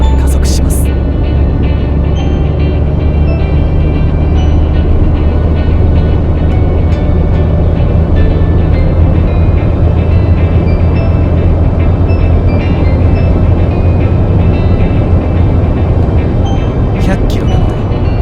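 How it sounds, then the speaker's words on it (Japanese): A Honda N-WGN Custom L turbo (JH3) accelerates on a highway toward 100 km/h, its engine and road noise forming a loud, steady drone heard from inside the cabin, with a couple of short clicks at the start and end. "アクセルを踏んで100キロまで加速します。"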